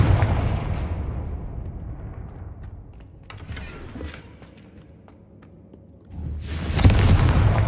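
A Confringo fire spell explosion in the Hogwarts Legacy video game, a loud burst fading at the start, then a quieter stretch before a second strong blast swells up near the end.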